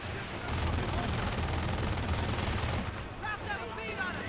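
Sustained gunfire in the Company of Heroes game, a steady roar of overlapping rifle and machine-gun shots that stays loud throughout, with voices faintly mixed in near the end.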